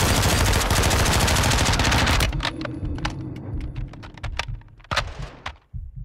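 Gunfire in Call of Duty Modern Warfare 2: a loud dense wall of automatic shooting for about two seconds, then scattered single shots and short bursts at varying distances.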